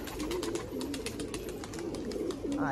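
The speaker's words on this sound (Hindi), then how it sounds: "ये रहे हमारे कबूतर।" Pigeons coo in low, rolling, repeated calls close by, over a steady background of faint rhythmic ticking.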